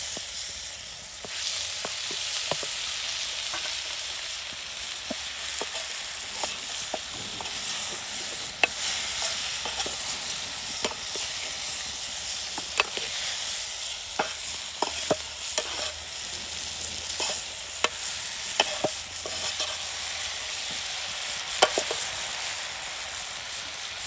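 Tomatoes fry in a pan for potato brinjal curry with a loud continuous sizzle, and scattered sharp clicks of a spoon stirring them run throughout.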